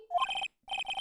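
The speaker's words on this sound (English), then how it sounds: "I was just rocking out to the ridiculous ringtone he has." A phone ringtone plays in the video game Phoenix Wright: Ace Attorney, with a rising electronic chirp followed by two bursts of rapid, trilling bell-like beeps separated by a short gap.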